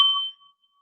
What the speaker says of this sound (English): I'll start us off with the bell.